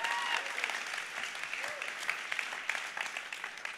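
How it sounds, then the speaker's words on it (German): Steady applause from a large crowd, dense clapping throughout with scattered cheers and voices mixed in. "Give big applause to yourself that you are here."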